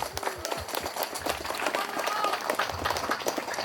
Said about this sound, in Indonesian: Tepuk tangan untuk rekan-rekan sekalian